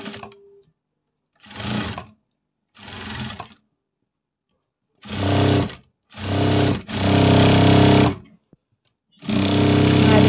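A sewing machine runs in short and longer bursts while stitching a blouse seam, its motor buzzing loud and close, with silent pauses between runs.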